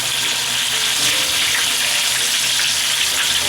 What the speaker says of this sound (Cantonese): 我哋就將佢反另一邊炸多1分鐘